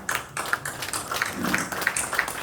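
Scattered audience applause at an award ceremony for a professional missionary prize, a loose patter of hand claps with distinct sharp taps standing out over a soft room background.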